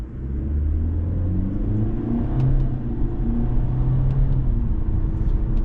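A 2025 Kia K4 GT-Line with an IVT gearbox drives along with a steady engine drone and road rumble, the pitch stepping through simulated upshifts and downshifts, loud and close from inside the cabin with no talk.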